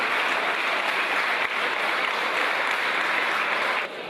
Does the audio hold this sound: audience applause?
yes